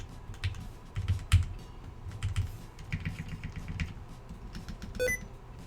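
A Bakeneko 60 mechanical keyboard with lubed Hippo switches is typed on, fast, close, thocky keystrokes in an irregular stream with a brief electronic beep near the end.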